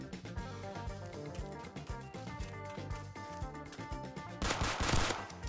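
A submachine gun fires in Roblox Rust, loud and close, in rapid sustained bursts of rattling shots that end with a sharper, heavier volley.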